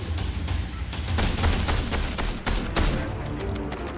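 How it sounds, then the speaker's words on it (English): Gunfire in the Fortnite video game rattles in rapid bursts, a loud, close series of sharp repeated shots with short pauses, continuing throughout without talk. "I'm getting shot at."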